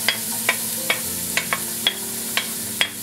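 Onion sizzling in hot oil in a pot for meatball soup, a close, constant frying hiss punctuated by about eight sharp stirring clicks, with no voices.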